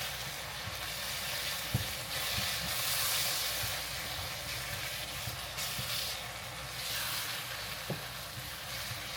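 Onions and Ethiopian berbere frying in oil make a soft, steady sizzle and hiss, fairly faint, with a few light clinks and stirring noises and no talking.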